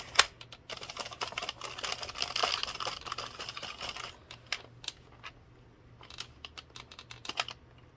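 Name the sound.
22-pin knitting machine carriage run through without yarn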